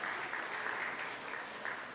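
A church congregation applauds to welcome visitors during a Korean Sunday service, steady dense clapping from many hands that fills the room without pause and without talk.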